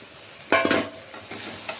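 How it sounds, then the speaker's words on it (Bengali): Potatoes and jackfruit tossed into a pan of spice masala for a Bengali jackfruit prawn curry, giving a short burst of stirring and scraping with a brief sizzle, then a quieter simmering hiss. "এখন আমি আলু আর এঁচড়গুলো এই মশলার মধ্যে দিয়ে দেব। এগুলো দিয়েও একটু ভালো করে আবার কষিয়ে নেব।"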